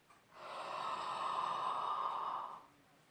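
A long, steady breath drawn in or blown out during a saxophone breathing exercise, a soft airy rush lasting about two seconds, close and alone with no talk.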